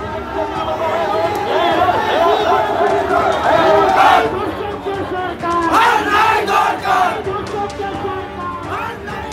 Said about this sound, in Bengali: একে অপরের বিরুদ্ধে স্লোগান তুললেন তৃণমূল ও বিজেপির কর্মী সমর্থকরা